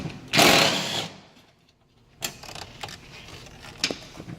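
A power tool runs a short burst loosening 12mm bolts on a Toyota Prius 30 (ZVW30) hybrid battery, a loud whir of about half a second, then quieter clicks and small mechanical taps close by.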